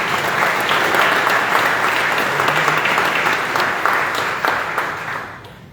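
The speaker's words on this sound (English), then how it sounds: "Would you mind giving them a round of applause as well?" A crowd at a city park opening applauds for the trade unions and contractors, steady dense clapping that fills the space and tapers off toward the end.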